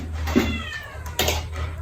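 Cats meow close by in two distinct calls, the second louder and more drawn out, over a steady low hum with no talking.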